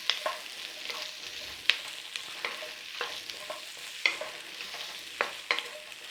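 Carrots and mixed vegetables stir-fry in a pan for egg fried rice, a soft steady sizzle broken by sharp scraping stirs and clinks of the utensil every second or so, close and alone.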